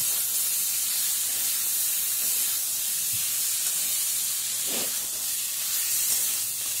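Tomatoes and onion greens with chicken feet sizzling in a pan, a loud steady steamy hiss with a couple of brief stirring scrapes, no talk.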